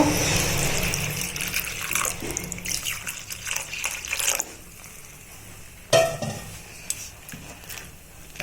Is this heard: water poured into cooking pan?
yes